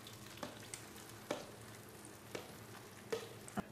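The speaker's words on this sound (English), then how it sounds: "I'm going to add some oil to my pan, and essentially we're going to cook the mole in the fat" Mole sauce cooking in hot fat in a pan gives a soft, steady sizzle, with a few sharper clicks and scrapes of stirring scattered through it.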